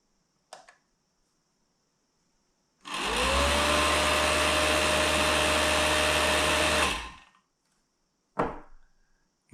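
A replacement motor on a Moultrie deer feeder with a new battery spins up during a test, a loud steady whirring burst of about four seconds framed by brief clicks and silence.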